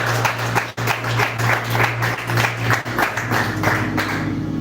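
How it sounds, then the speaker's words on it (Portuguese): Continuous applause from a large church congregation at an Easter service, dense and sustained throughout, with a low musical hum underneath. "Você pode dar um aplauso bem forte ao Senhor por isso"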